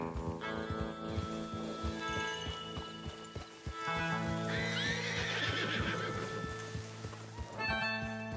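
Horses whinny and neigh in Red Dead Redemption 2, with clopping hooves and game music layered underneath; a neigh rises clearly midway, fairly close and loud.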